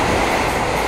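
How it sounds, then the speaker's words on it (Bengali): Varanasi to Delhi Vande Bharat Express train passing close by, a loud, steady, continuous rush of rail noise with no pause, no voices. "এখন পাস করবে বারাণসী থেকে দিল্লি বন্দে ভারত এক্সপ্রেস।"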